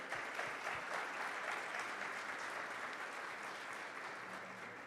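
A live audience applauds the invited guests at the close of a business talk on international markets, a steady, even wash of many hands clapping that continues without a break and stays fairly soft.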